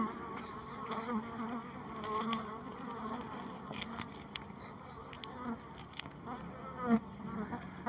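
A dense swarm of black honeybees buzzing close by at a hive that fell over, a steady droning hum with individual insects darting past the microphone.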